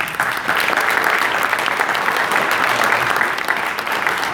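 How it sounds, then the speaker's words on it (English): A crowd at a video game hall of fame event gives itself a big round of applause, a thick, sustained patter of many hands clapping close by at steady volume. "Can we give each other a big round of applause?"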